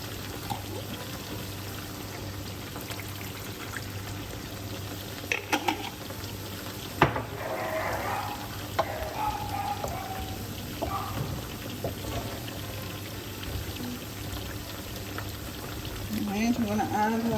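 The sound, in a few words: pouring coconut milk into sauce in a pan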